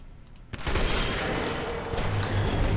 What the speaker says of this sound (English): Oh, an eye shot!